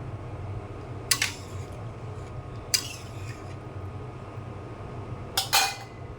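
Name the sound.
putting the lid on the cooking pot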